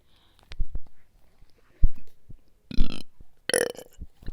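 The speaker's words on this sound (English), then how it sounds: "go on to our second burp" A person burping several times without a fizzy drink, short scattered belches with two louder, longer ones near the end, close and alone with small mouth sounds between.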